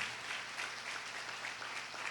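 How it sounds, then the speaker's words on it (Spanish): Church congregation applauding for their pastors during a family service, a steady wash of clapping from many hands that stays fairly faint and distant throughout, with no talk over it. "¿Qué tal si le dan un aplauso al Señor por sus pastores?"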